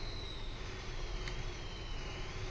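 A Limares truck in the video game SnowRunner runs with a steady low diesel engine rumble, faint and constant, a thin whine riding above it and a brief click midway.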